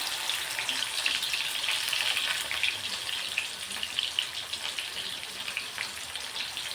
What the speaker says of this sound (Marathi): कढीपत्त्याची पानं, कांदा थोडासा आपण परतून घेणार आहोत